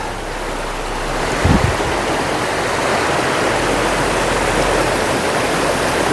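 A mountain creek flowing beneath small log footbridges at the start of the Gregory Ridge trail in the Smoky Mountains: a steady, full rushing of water with a brief low thump partway through, and no voices.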